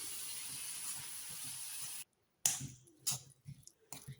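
Vegetables sautéing in a pan with salt and turmeric, a steady hiss of sizzling for two seconds, then a brief silence followed by scattered stirring scrapes and short bursts of frying, quiet and close.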